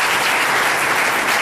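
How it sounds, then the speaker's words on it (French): Audience applause at a church gathering, dense and steady clapping that fills the whole short stretch with no talking. "Applaudissez encore pour lui."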